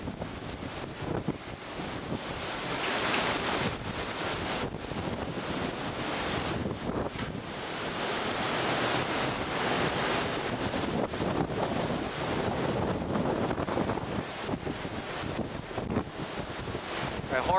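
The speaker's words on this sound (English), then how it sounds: "Wind shifted 180 degrees." Hurricane Harvey winds roaring and buffeting the microphone in a continuous loud rush, with gusts swelling and easing over the whole stretch and no talk.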